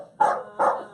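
Two sharp dog barks ring out in quick succession, close and loud, with brief silence before and between them.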